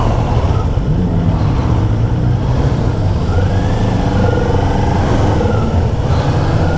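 A Kawasaki Z400 motorcycle engine drones steadily and loud on a demo ride, its pitch rising and falling smoothly as the throttle opens and closes, with wind noise throughout.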